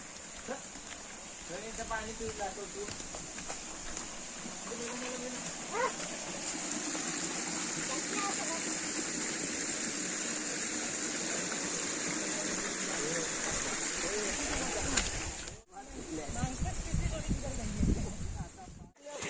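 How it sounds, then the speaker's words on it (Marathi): A steady, broadband rush of a forest stream flowing in the Sahyadri hills after rain, close and continuous, with people talking over it and a brief dropout near the end. "हा ओढा लागतो एक सुरुवातीला"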